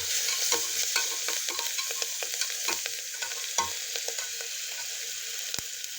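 Chopped tomato and coriander stirred into prawn rice frying in a pan, a soft sizzle with irregular scraping and stirring clicks, one sharp knock near the end.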